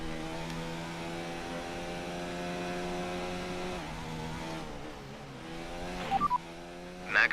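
A Formula 1 car in the F1 2019 racing game, a Haas powered by a Ferrari engine, drones with a steady high whine. The pitch dips and shifts partway through, then short electronic blips sound near the end.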